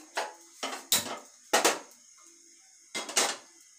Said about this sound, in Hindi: कढ़ाई रख दी हूँ